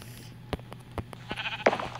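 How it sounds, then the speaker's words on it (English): Sheep bleating in a video game, a few short calls close by over a low hum, ending in one louder bleat, with no voices. "So I'm going to lure the sheep in here with some wheat."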